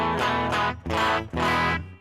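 Three distorted electric guitar chords played on the bridge pickup ring out in a row, bright and twangy, each sustained briefly before the next strike.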